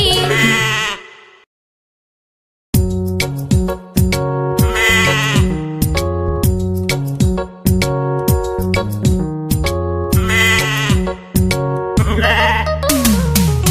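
Repeated sheep- or goat-like bleats, loud and close, sounding in bursts between a bright, rhythmic song with steady instrumental backing, with a short silent gap near the start.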